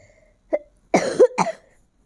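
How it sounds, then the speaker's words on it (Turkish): A person coughs several times in quick bursts, close and loud, with a short single cough first followed by a harsher run of coughs. "yayında öküz gibi öksürme sesleri duyarsanız benden gelir"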